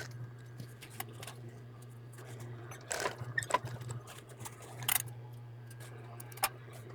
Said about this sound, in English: I'm going to stitch across it, turn around, and come right back over the same spot.